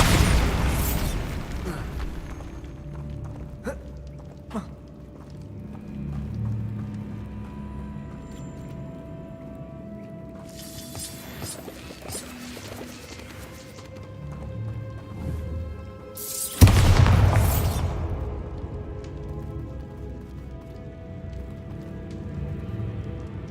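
Booming Bombarda spell blasts in the Hogwarts Legacy video game: several broadband bursts, the largest a sharp heavy detonation near the end that rolls off into rumble, over low game ambience.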